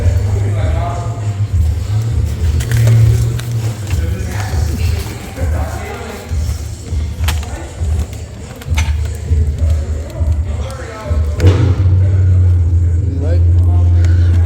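A Chrysler engine fires and runs with a low, loud idle rumble that dips briefly midway and then settles back, with clanks and shuffling nearby and people talking over it.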